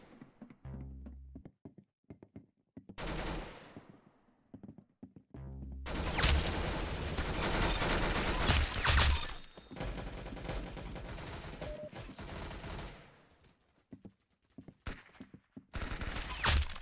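Gunfire in the Roblox-style shooter game Arsenal, short bursts of rapid shots followed by long stretches of dense, loud automatic fire with brief gaps between volleys.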